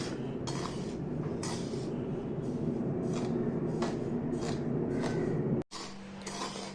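Semolina (rava) roasting in a pan for rava laddu, stirred with a metal spoon. Repeated scraping and clinking strokes sit over a low steady hum, and there is a brief cut near the end.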